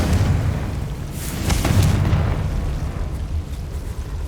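A Confringo blasting spell in the Hogwarts Legacy video game on PC: loud booming explosions, with a sharp burst around the middle trailing into a heavy rumbling roar that stays dense to the end.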